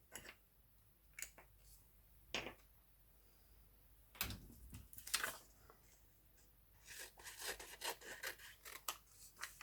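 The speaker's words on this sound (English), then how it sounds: "Now I will cut this bit and try and fit in there" Paper being cut into a shape with scissors, heard as quiet, intermittent snips and rustles spread across the stretch with no talking.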